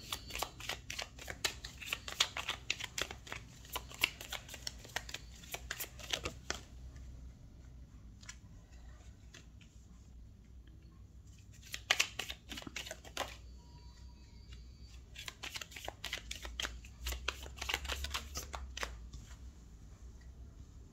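Tarot cards are shuffled and laid out on a table, with long runs of soft, rapid riffling and flicking. Quieter stretches with occasional card slaps break up the runs, all close but low in level.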